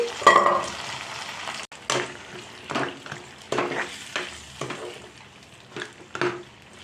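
Pressure-cooked mutton stirred into a frying pan of sizzling masala, a ladle scraping the pan in repeated rhythmic strokes over steady close frying hiss, no voice.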